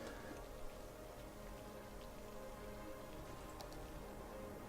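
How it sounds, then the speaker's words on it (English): Rain falling in the city-building game Cities Skylines, a faint, steady wash of rainfall with scattered light drop ticks and no break. "It's raining and it's dark."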